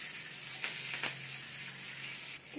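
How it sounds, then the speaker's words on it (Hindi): Tadka tempering sizzles and crackles in hot oil for a tomato garlic chutney, a steady close frying hiss with a couple of sharper spits. "देखो फ्रेंड्स तड़का हो गया"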